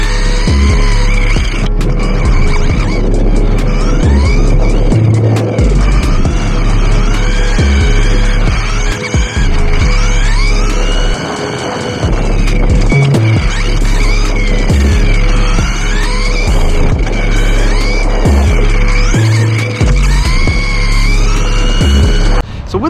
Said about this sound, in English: You can literally come to Nashville and you can rent an Arma Typhon and drive it around here.